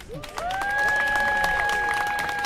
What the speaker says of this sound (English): let's give a round of applause for our teachers